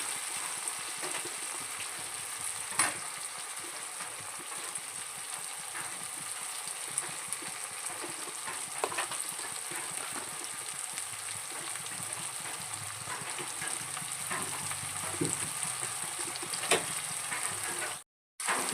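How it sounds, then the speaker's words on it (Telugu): Tomato curry sizzles steadily in a pan while salt and chili powder are added. The frying is an even, continuous crackle, with faint stirring and no voices. "టమాటీలు ఉడికిపోయాయి ఇప్పుడు ఉప్పు కారం వేస్తున్నాను"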